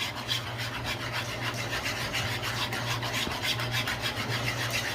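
Whisking a thick cheese sauce for cheesy scalloped potatoes produces a continuous rhythmic scraping and swishing of the whisk against the pan, close and steady, with no talking.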